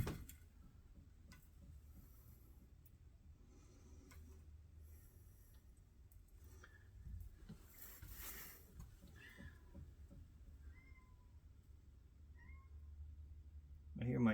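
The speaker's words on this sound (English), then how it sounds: "I hear my kitties in the studio." Domestic cats meow faintly in a studio, a few soft high calls scattered in the background, while someone talks quietly nearby.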